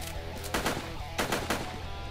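Pump shotgun blasts in Minecraft with the AdventureCraft mod: several sharp repeated shots in quick pairs over a constant loud game background.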